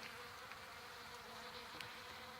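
Honey bees buzz continuously around a low-kill jar feeder, a close, steady drone with small swells as individual insects pass nearby, and no voices.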